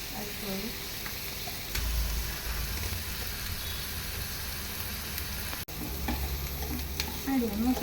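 Frying in heated oil with a utensil stirring the pan, steady close sizzling with scraping and clatter, and faint background murmur at times.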